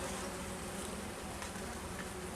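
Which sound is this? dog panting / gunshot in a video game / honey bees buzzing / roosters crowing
honey bees buzzing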